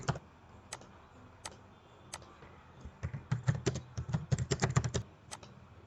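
Fingers type on a computer keyboard, sparse single key clicks at first, then a quicker, denser run of tapping, close and quiet with no voices.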